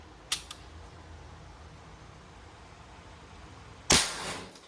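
A Crosman MagFire Ultra .177 break-barrel air rifle fires with a sharp, near crack, followed a few seconds later by a second loud snap with a short, ringing tail, heard alone with no talk.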